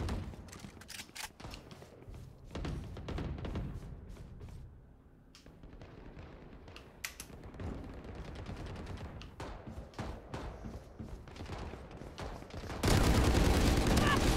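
Dense gunfire rattles through a Valorant match, with repeated shots and bursts throughout and a louder, busier stretch near the end, while a player talks in French over the fighting.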